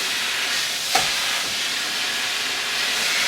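A steam iron releases a steady, continuous hiss of steam while pressing fabric, with a faint brief click near the start and no voices.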